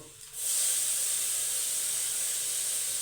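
Chopped tomato hits a hot pan beside frying potato and carrot for a stale-roti chowmein, setting off a sudden loud, steady sizzling hiss that holds without pause.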